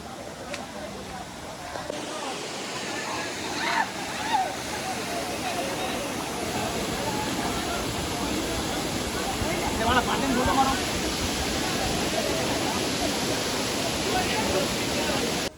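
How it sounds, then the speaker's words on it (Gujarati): Paniyari waterfall in Banaskantha roars steadily as a dense, continuous rush of falling water that grows slightly louder and fuller as it goes on, close and unbroken throughout. "તો ચાલો હવે ધોધની આગળ જઈએ"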